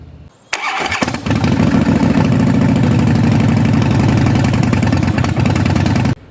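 A Harley-Davidson Fat Boy motorcycle engine starts with a bark, then settles into a loud, steady, lumpy idle right up close, with no voices.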